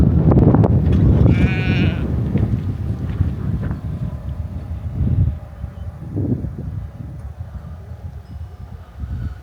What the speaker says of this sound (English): appear to be traveling with the sheep that are over there on the hill